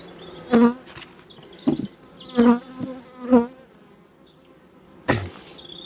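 Bees buzz at a hive during feeding before wintering, close loud buzzing bursts as individual bees pass near, several separate swells over a quieter hum, without talk.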